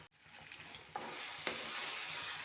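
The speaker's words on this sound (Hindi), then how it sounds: "एक से 2 मिनट इसे अच्छे से भून लेते हैं" Eggplant for baingan bharta fries in a hot pan, a steady close sizzle broken by a couple of sharp scraping stirs of the spoon.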